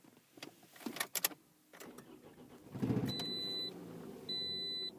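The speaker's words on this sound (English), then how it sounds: "At this point, it will start the car." A Toyota RAV4 is started with a transponder key: a few key clicks, then a short engine crank that catches into a low idle, followed by two steady electronic chime tones from the dashboard.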